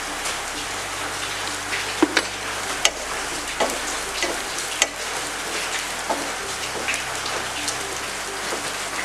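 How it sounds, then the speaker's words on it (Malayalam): A spiced chicken filling for Thalassery pathiri fries in a pan with a dense, steady sizzle, while a spoon gives occasional soft scrapes and taps as it stirs, all close up. "മുളക് പൊടിയുടെയും ഇതൊക്കെ പച്ചമണം മാറുന്നോണം വരെ തന്നെ ഇളക്കി കൊടുക്കാം"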